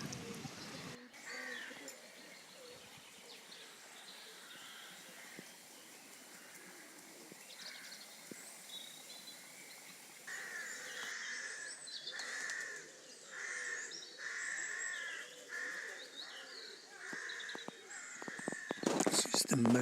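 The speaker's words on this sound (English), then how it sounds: "Seagulls around the fishing boat." Seagulls call around a fishing boat on a sunny morning by the sea at Portloe, Cornwall, with faint repeated cries over steady background, growing somewhat louder and busier toward the end.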